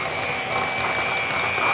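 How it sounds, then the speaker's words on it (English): An electric hand mixer beats vanilla-flavoured frosting for a red velvet cake, giving a steady, close, continuous mechanical whir with a faint rattling texture that holds even throughout the short stretch. "we are going to take our hand mixer here and we're going to mix this together until combined"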